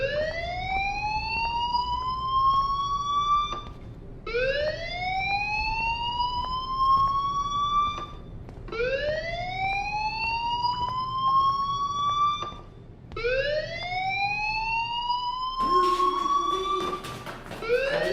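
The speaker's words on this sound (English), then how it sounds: "do you hear that fire alarm?" A fire alarm blares in the video game Life is Strange, a loud electronic siren sweeping upward in four long repeated wails, each lasting about four seconds with short gaps between, standing alone in the scene.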